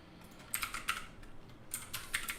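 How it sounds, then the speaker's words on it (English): Someone types on a computer keyboard while standing, setting up C99 DirectX 11 rendering code: quick, close, crisp clicking in two short bursts separated by a brief pause, with no voices. "I'm still getting used to standing up while typing."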